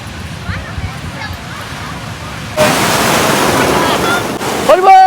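Sea waves and surf pound a beach, with wind gusting over the microphone. The wash of breaking water swells loudly partway through and stays steady. Voices can be heard faintly early on.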